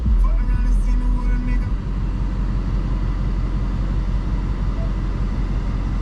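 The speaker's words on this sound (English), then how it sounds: "That's a track exhaust." A 2024 Ford Mustang Dark Horse's engine rumbles deep and loud through its track-mode exhaust, a steady, heavy low drone heard from inside the car without letup.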